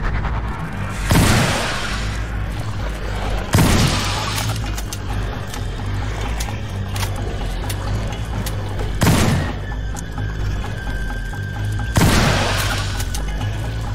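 Shotgun blasts in the horror video game Fobia: four loud, booming shots spaced a few seconds apart over a steady low in-game drone.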